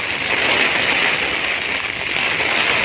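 Steady, dense rainfall pours down without a break during Typhoon Crising, a continuous loud hiss with no voices over it.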